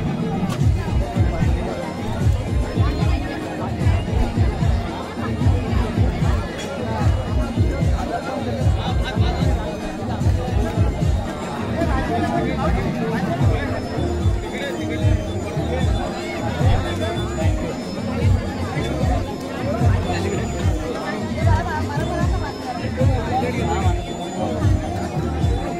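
Guests chatter at a traditional Konkan wedding feast in Vadad village, a steady crowd babble of many overlapping voices with clattering and nearby talk throughout.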